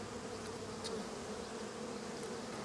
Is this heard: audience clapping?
no